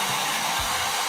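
A heat gun set on low blows a steady, close whooshing hum while warming vinyl wrap from underneath on a Porsche tail light, continuous and unbroken throughout.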